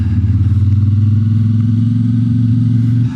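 A CFMOTO 450MT adventure motorcycle, still in its break-in period, hums steadily while ridden, its mid-pitched engine drone loud and constant with wind rumble throughout.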